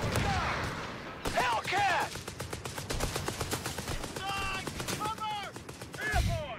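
Machine gun fire rattles in a video game battle from Company of Heroes 3, a WWII strategy game, with dense rapid bursts, sharp single shots and ringing ricochet-like tones, loud and close.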